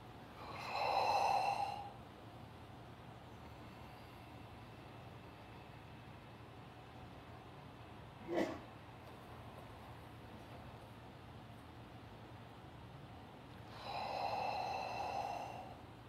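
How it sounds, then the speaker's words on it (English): Deep breaths are drawn in and let out during a breathing demonstration, two faint airy breaths far apart with a long stretch of quiet and one brief soft click between them. "And then I'm going to take a deep breath in."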